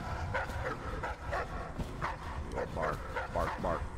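Dogs barking and yipping in the Dishonored video game, repeated yelps under a low rumbling game ambience, with a voice talking over them.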